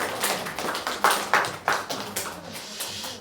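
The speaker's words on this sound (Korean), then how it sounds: "하나님께 영광의 박수." A church congregation claps during a Sunday worship service, a short burst of distinct, uneven claps from a modest group, a few hands standing out louder before the sound thins out.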